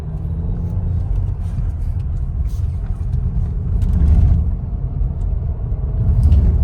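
A Skoda Slavia car drives along with a continuous low road rumble and engine hum, swelling slightly at moments, heard from inside the cabin without talk.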